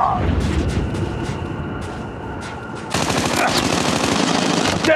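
Rapid machine gun fire sounds during Call of Duty Mobile gameplay, sustained and loud, with dense bursts that grow heavier about halfway through.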